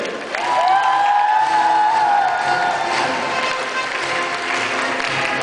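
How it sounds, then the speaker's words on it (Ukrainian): A hall audience applauds at a Grand Prix award ceremony for the Halytski Samotsvity 2015 festival, sustained loud clapping with some cheering, while a brief whistle-like tone rises early and fades under the steady applause. "Ваші аплодисменти!"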